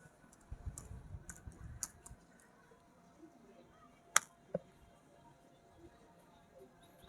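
A computer mouse gives a few sparse, crisp clicks, one sharper than the rest, over a quiet room with a brief low rumble near the start.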